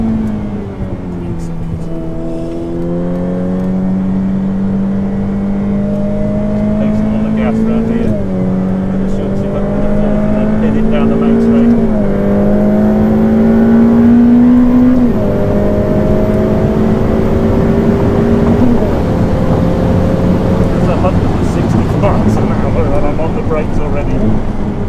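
A Ferrari F8 Tributo is driven hard on a race track, its loud engine note climbing steadily and dropping back at each gear change, repeating several times in a continuous close roar.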